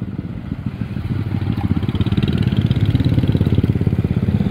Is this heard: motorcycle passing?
yes